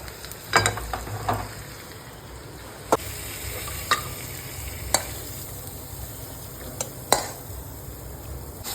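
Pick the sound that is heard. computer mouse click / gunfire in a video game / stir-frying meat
stir-frying meat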